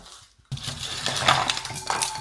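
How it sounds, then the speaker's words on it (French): After a brief quiet gap, ice cubes clink and rattle in a salad bowl, a busy cluster of bright knocks and scrapes heard nearby. "J'ai le full bac de glaçons."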